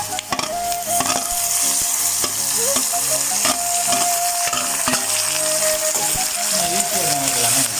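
Onions sizzle loudly in a pan as soya meat is added, a dense close frying hiss with repeated stirring and scraping clatters throughout and a steady hum underneath.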